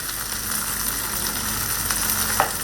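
Food frying in a pan at home, a constant close crackling sizzle that holds steady throughout, with one brief louder tap near the end and no voices.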